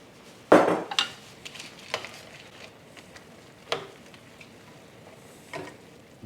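Frozen peas stirred into a pan for a garden-herb dinner, heard as a sharp clatter of utensil against cookware followed by a few lighter scrapes and taps spread across a quiet kitchen.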